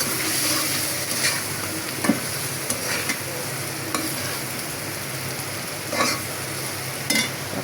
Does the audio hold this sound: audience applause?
no